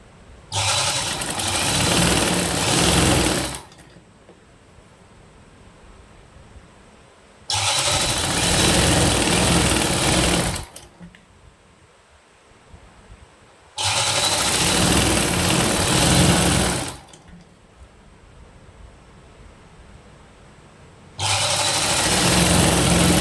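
A sewing machine stitching cloth, folded bit by bit around a blouse neck piece: four bursts of steady, loud motor whirring, each a few seconds long, separated by quiet pauses.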